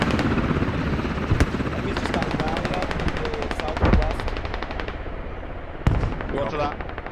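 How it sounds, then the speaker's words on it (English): Helicopter rotor thump and bursts of automatic gunfire in the military shooter game Squad, with loud sharp shots standing out over a steady rumble and a voice talking intermittently. "Heli has just landed southwest."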